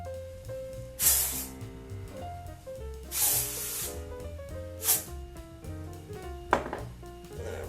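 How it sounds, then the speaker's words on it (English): Batiste dry shampoo is spritzed onto hair in four short hissing bursts spaced a second or two apart, close and fairly soft, over steady background music with no talking. "I am going to take some Baptiste dry shampoo and I'm going to spritz this on my hair"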